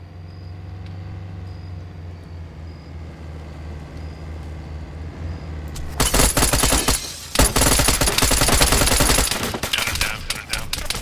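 Heavy gunfire from large rounds erupts in an ArmA military battle, loud bursts of rapid automatic fire following a stretch of low engine rumble.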